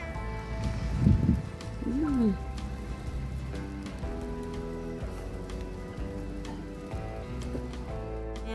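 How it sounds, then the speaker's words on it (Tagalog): Steady afternoon rain falls on surfaces as a constant soft patter and hiss throughout, with a few brief tonal sounds and background noise early on. "2:00 ng hapon, umuulan."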